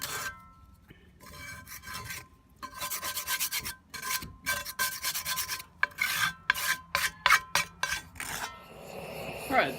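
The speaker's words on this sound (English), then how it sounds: "try to scrape out anything that's left over" Leftover food scraped out of a dirty cast iron pan, a rapid series of close, harsh rasping strokes of metal on iron with brief clinks between them, growing quicker toward the end.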